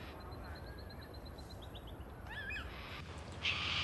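High up in the rain, a yellow-tailed black cockatoo chick gives a string of faint, wavering calls. Quick stuttering notes follow over a steady background hiss.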